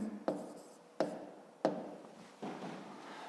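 Pen or pencil writing on paper during a maths lesson, three sharp strokes or taps followed by steady scratching, close and fairly quiet with no talk.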